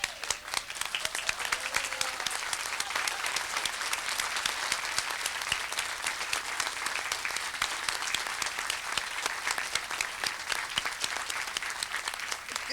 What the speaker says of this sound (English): I'd like to ask you all to stand and cheer and shout and stomp your feet and clap for her.